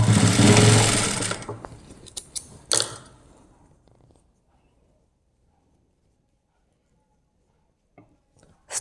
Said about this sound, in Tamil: திருப்பி ஃபுல்லாக ஸ்ட்ரைட்டாக ஒரு தையல் போட்டுட்டு வருவோம்